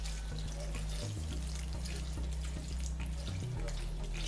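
Water runs steadily from a tap into a bowl of finely chopped methi leaves, a continuous splashing gush with slight shifts in pitch as the level changes, close and fairly loud.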